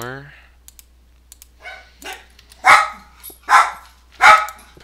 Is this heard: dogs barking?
yes